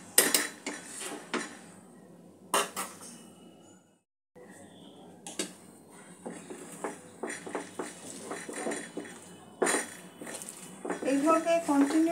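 Moong dal is stirred and dry-roasted over low heat in a kadai, a spoon repeatedly scraping and clinking against the metal in uneven strokes, with a brief pause and talking throughout.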